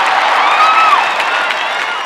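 A crowd at a street dance competition final claps and cheers loudly, a dense wash of applause with a few rising whoops over it.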